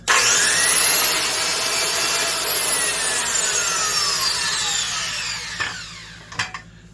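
A Makita hypoid saw whines loudly and steadily as it cuts, its pitch slowly sliding down before it winds off and a couple of faint clunks follow.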